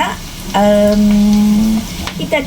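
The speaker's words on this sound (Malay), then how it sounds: "Kita akan tumis sampai garing sedikit" Garlic and other nasi goreng ingredients stir-fry in hot oil with a loud, continuous sizzle, joined midway by a sustained tonal hum that cuts off, followed by lighter scraping and clatter.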